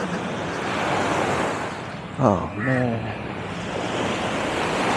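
Ocean waves wash steadily onto a beach in Phuket, Thailand, a broad continuous surf roar with wind, while someone briefly speaks over it.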